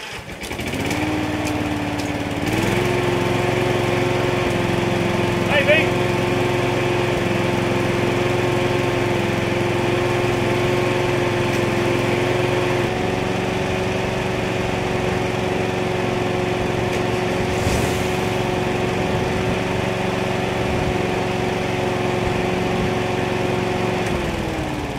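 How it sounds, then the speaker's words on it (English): Lawn mower engine starts and runs steadily, a close buzzing drone with a constant high whine that holds at a fairly even pitch throughout. "Start said lawnmower."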